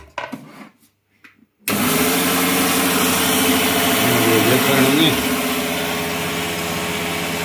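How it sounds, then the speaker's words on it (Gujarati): A kitchen mixer grinder grinding sesame seeds starts abruptly after a quiet moment and keeps up a loud, steady whirring drone close by, its pitch shifting slightly partway through as the load moves. "તો હવે મિક્સર કરશે ચાલુ"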